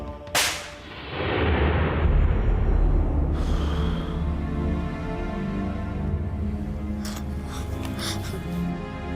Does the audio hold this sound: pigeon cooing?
no